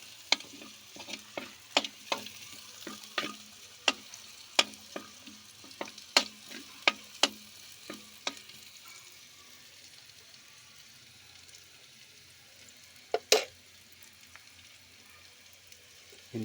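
Onions frying in oil in a pan for a coconut-milk dish, a soft steady sizzle under a run of sharp utensil clicks and scrapes that thin out after the first few seconds, then a last couple of knocks.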